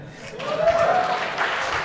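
Audience applause at a hospitality industry seminar in New Orleans, a steady wash of clapping filling the room for about two seconds, with a faint tonal whistle running through it.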